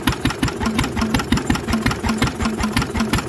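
An old Lister engine, first started in 40 years, idles unevenly with loud rhythmic chuffing pulses and a knocking beat, close up with no voices.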